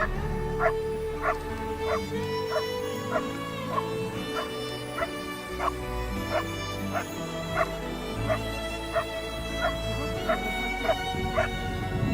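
Indra, an avalanche search dog, barks in a regular series of sharp yips and whimpering barks, roughly one every second, fairly close and loud over a low rumbling background in a snowy mountain setting.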